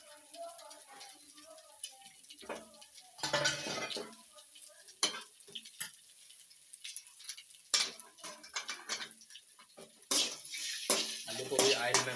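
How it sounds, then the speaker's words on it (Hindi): Potatoes frying in oil for an egg gravy, with intermittent clinks and scrapes of a spoon stirring in the pan over a faint sizzle, and voices talking at times. "आलू को भी ऑयल में फ्राई कर देंगे।"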